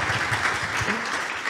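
An audience applauds Antonella with steady, dense clapping that fills the whole moment, close and even throughout.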